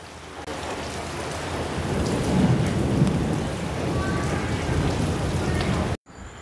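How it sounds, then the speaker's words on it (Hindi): Heavy rain pours steadily with low rumbling thunder mixed in, a dense close hiss that cuts off abruptly at the very end. "देखिए कितनी बारिश हो रही है"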